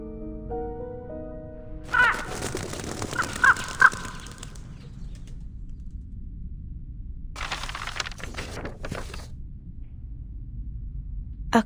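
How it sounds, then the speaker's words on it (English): A crow caws in the video game Reverse 1999. A few harsh calls come in two bursts, near and fairly loud, over quiet background music. "A crow?"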